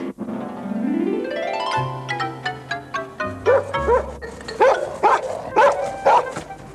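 A dog barks and yips in a lively series of sharp, loud bursts, up close, after a rising musical tone.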